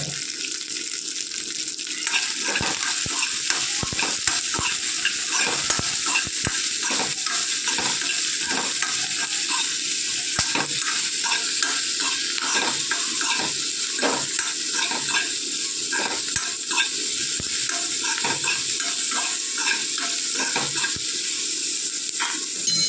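Continuous sizzling and scraping as something roasts in a pan, with steady stirring rattles throughout, close and fairly loud.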